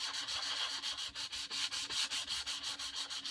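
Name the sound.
hand sanding wood across the grain with sandpaper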